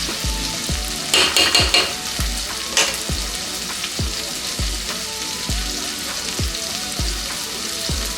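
Garam masala, coriander powder and chili powder fry in a pan for tomato kurma, a spoon scraping and stirring in a steady repeated rhythm over a continuous close sizzle.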